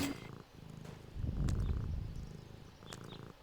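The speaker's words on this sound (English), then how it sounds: "A cat stuck in a tree." A cartoon cat stuck in a tree gives a soft, rumbling purr that swells in the middle and fades, close and alone, with a few faint high chirps over it.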